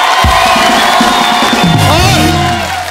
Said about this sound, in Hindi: तो अब हो जाए खुल के तालियां।